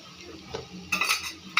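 Spices being mixed into a mushroom curry in a pan, a few quick metal utensil scrapes and clinks against the pan over faint frying, close and short.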